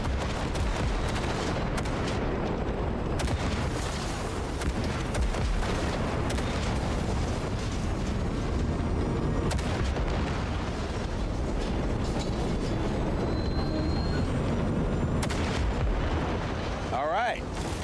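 Sustained gunfire and explosive blasts in the open-world game Cyberpunk 2077, a dense, continuous roar of shots and booms running the whole time, with voices talking over the combat.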